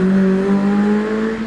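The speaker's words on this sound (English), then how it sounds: "Andrew Feekins gets away in the Renault Clio Cup car" Renault Clio Cup rally car pulling away on the Prescott hillclimb, a loud, near engine note holding a steady rising tone for a moment as it accelerates off.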